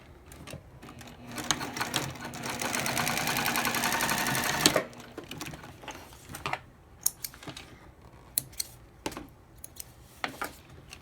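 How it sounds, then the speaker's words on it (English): A sewing machine runs a steady, buzzing stretch of top stitching along the fold of a small fabric wallet panel, close and loud for about three seconds. Scattered clicks and handling taps follow once the machine stops. "we're going to top stitch along this fold all the way across"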